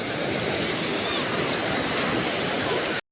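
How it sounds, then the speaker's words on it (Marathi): Waves breaking on a Konkan beach in India make a loud, continuous broadband roar of surf that stays steady for about three seconds, then cuts off abruptly. "आम्ही आलो, लाट आली."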